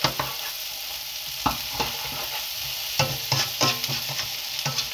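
Peas and onion stir-frying in a pan for kofta fried rice, a constant sizzle punctuated by intermittent scrapes and knocks of a spatula against the pan.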